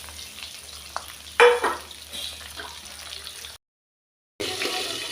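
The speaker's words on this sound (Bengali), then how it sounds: "মাছটা কিন্তু অতিরিক্ত ভাজবো না, হালকাভাবে একটু ভেজে নেব" Tangra fish fry lightly in hot oil, giving a soft, crackling sizzle with a brief louder burst, then a short break in the sound before the sizzle returns.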